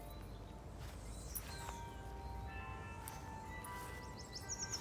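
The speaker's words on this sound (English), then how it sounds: "You can hear the bell for the clock tower at the garrison for 6 o'clock." Garrison clock tower bell in Barbados strikes six o'clock, faint and distant over steady outdoor background noise, with a few soft tolls that hang in the air.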